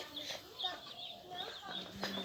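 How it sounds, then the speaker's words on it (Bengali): Chickens cluck in short, faint bursts around a rural home with goats nearby, scattered through a few seconds while people talk in the background. "আম্মু মুরগি"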